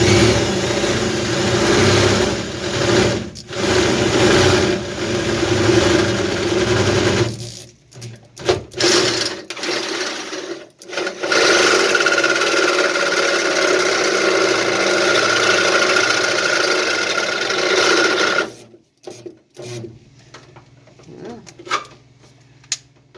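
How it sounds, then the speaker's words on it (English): A fat drill bit bores holes out to 3/4 inch in door jamb metal on a 1941 Dodge WC truck, a loud, steady motor whine running in long sustained stretches broken by short pauses. "Now we got to drill all these out to 3/4."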